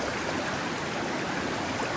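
Flowing stream water rushes steadily and close, a dense, even wash of sound with no pauses.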